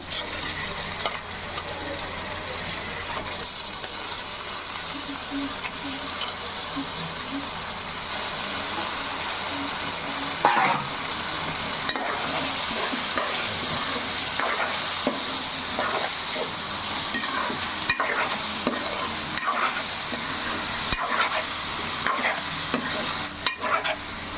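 Mutton and softened onions frying in a pan as a curry is cooked, with a steady broad sizzle and repeated scraping clicks of stirring running throughout, close and fairly loud.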